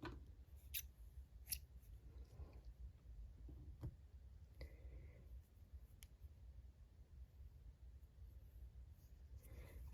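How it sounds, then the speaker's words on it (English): Scissors snip crochet yarn in a few faint, crisp clicks scattered over a quiet background, close by and without talking. "I'm just going to slip stitch into the first stitch, just like this, pull my yarn up, and I'm going to cut that off."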